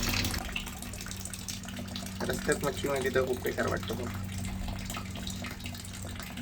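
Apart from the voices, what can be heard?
water being poured while changing fish water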